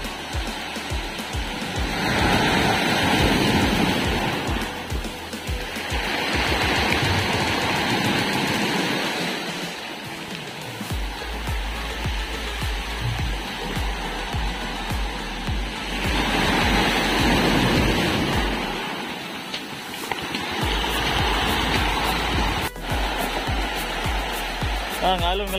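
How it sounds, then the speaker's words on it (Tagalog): Large ocean waves break repeatedly on a rocky island shore with coloured stones, loud and near, swelling and fading in long surges with heavy rumbling wash; a voice speaks in places over the surf. "Ang alon malaki."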